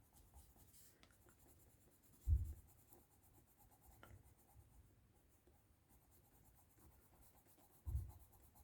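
Colored pencils shade softly on paper with a faint continuous scratching and rubbing, very quiet and close, broken by a couple of louder thumps.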